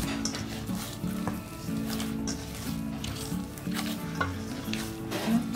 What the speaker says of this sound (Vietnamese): Và bây giờ là mình sẽ nhồi.